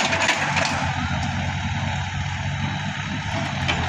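A vehicle drives up at a dig site in very hard soil, giving a loud, close, continuous engine rumble with no clear speech.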